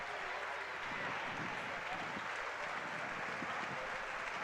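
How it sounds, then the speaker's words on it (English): Crowd applause at a Forest City high school basketball game as a player leaves to a standing ovation, a steady dense wash of clapping and cheering held at an even level throughout, with faint talk underneath. "Brandon Lieber will leave the game as well to a standing ovation from the Forest City crowd"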